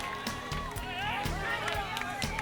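Roadside spectators cheer and shout along a climb during the 1995 Tour of Flanders cycling race, a steady crowd roar with rising calls under a commentator's talk.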